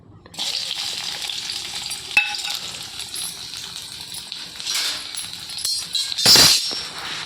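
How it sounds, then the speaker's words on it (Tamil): Onion sautéing in a pan after tomato paste, a green chilli and ground tomato-garlic-chilli masala go in, a steady close sizzle with occasional clinks of a spoon and a louder stirring burst near the end. "வதக்கிறேன். வெங்காயம் நல்லா வதங்கட்டும்."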